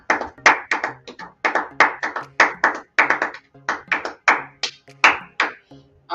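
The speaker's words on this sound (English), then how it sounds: "All right, y'all, that was my clap." Close, crisp hand claps ring out in a patterned rhythm of short bursts, about twenty sharp slaps over several seconds, each one distinct and loud in a quiet room.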